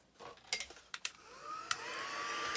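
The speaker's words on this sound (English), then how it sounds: "I'll get my heat gun out" Heat gun blowing hot air during Christmas card crafting, a steady close whoosh that rises and settles into a continuous hiss after a few quiet clicks and taps.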